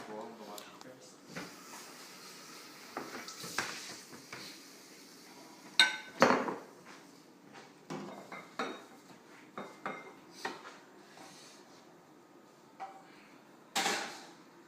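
Clattering dishes and utensils at a kitchen sink as a bowl is washed, scattered knocks and clinks over a low background, with someone speaking now and then.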